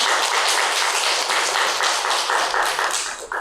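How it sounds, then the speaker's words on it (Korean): Congregation in a church service applauds to welcome a speaker, a dense steady wash of clapping that fills the space for a few seconds and thins slightly at the end. "다시 한번 박수로 환영해 주시기 바랍니다"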